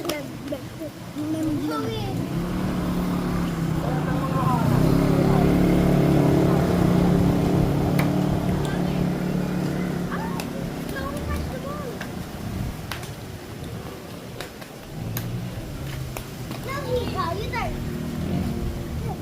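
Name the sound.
motorcycle passing nearby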